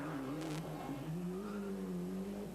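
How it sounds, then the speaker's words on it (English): The engine of a Bastos-liveried Ford Escort Cosworth rally car drones and climbs in pitch as it revs through gears on a special stage at Rally Ypres 1993 in Belgium, steady and mid-distance, without speech. "And here is this stunning looking Bastos Escort Cosworth, still winning stage after stage on this rally."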